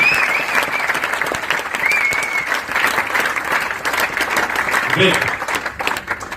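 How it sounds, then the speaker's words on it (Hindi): An audience at an Amway Mega Emerald event applauds continuously, a dense, loud wash of clapping from many hands that holds steady throughout. "ताली तो बजानी पड़ेगी दोस्तों"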